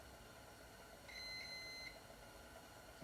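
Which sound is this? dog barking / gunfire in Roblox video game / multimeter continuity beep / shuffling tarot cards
multimeter continuity beep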